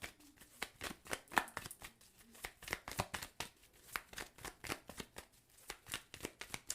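Tarot cards being shuffled and pulled by hand, a quick run of crisp, close papery slaps and riffles in an uneven rhythm, fairly soft throughout.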